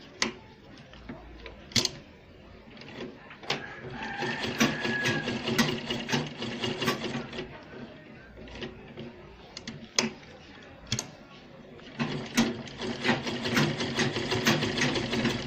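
A sewing machine stitches Ankara fabric for a gladiator sandal, running in close, rapid rattling bursts separated by short pauses and sharp clicks as the work is repositioned, with no talk over it.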